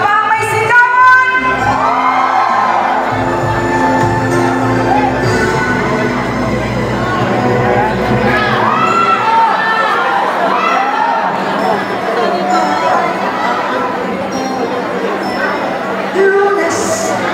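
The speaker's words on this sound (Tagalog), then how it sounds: "isa pang malakas ang palakpak!" A crowd at a 50th anniversary celebration cheers, whoops and shouts loudly and continuously, with voices and music mixed into the lively roar.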